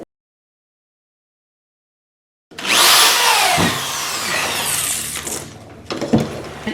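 A handheld power tool starts after a silent stretch and cuts through a part for a garden composting tower with a loud, steady whine and grinding, then briefly stops and restarts near the end.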